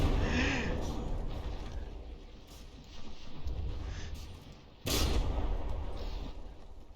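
Battleship naval shell gunfire in a video game, heavy booming blasts at moderate distance, one especially loud report near the middle, with no talking.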